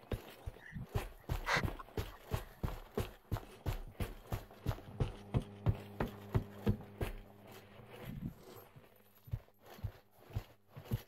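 Rhythmic footsteps in the virtual reality shooter Pavlov, a steady series of sharp, evenly spaced thuds near the listener that keep going through most of the stretch.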